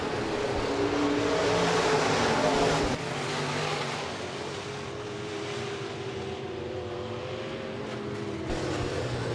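USRA B-Modified race cars roar around the Rapid Speedway dirt oval during a heat race, engines droning loudly and continuously with a brief swell before settling into a steady pack drone.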